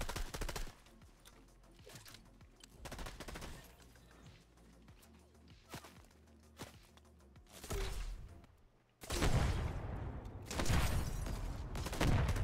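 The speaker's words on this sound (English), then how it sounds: "I'm shooting, destroying the gas station" Fortnite gunfire at a gas station, repeated sharp shots and rapid bursts with crashing impacts, quieter stretches in the middle, then loud sustained blasts and destruction toward the end.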